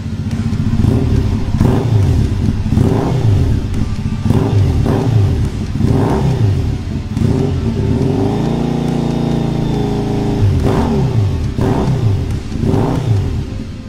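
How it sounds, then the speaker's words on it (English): A Triumph Thruxton Ace 865cc parallel twin with British Customs exhausts revs repeatedly in loud, close bursts, its throttle blips rising and falling over a steady idle with a longer held rev partway through. "even better than the way it rides is how it sounds with these British Customs exhausts"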